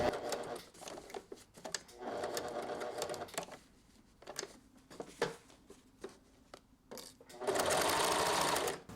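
A sewing machine stitches the corner of a bolero's front lining in several short runs separated by pauses and handling clicks, ending with a longer, steady burst of rapid stitching.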